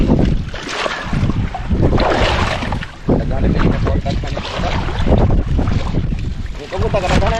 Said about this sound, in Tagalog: Parating na rin yung isang bangka mga bay.